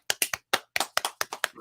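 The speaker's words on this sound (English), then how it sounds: "Everybody clap your hand." About ten sharp hand claps in a quick, slightly uneven rhythm, close and loud with brief silences between them, no talking over them.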